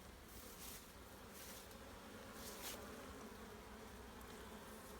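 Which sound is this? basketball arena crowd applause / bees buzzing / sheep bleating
bees buzzing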